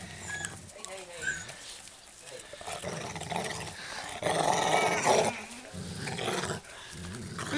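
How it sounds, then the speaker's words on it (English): Small Labrador puppies growling and grumbling up close, with soft squeaks and a person talking quietly in between. "baby puppies"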